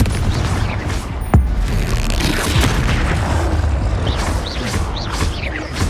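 A Confringo fire spell explodes in Hogwarts Legacy with a sharp boom near the start, followed by rumbling, crackling battle noise that stays dense and loud for several seconds.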